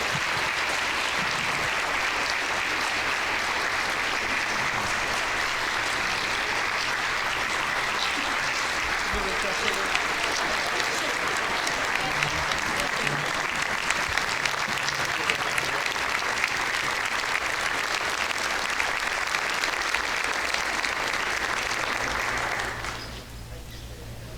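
Long, dense applause at the Lawrence County Schools banquet for the Teachers of the Year, a full room clapping steadily with a low hum underneath, then cutting off sharply near the end as a voice returns.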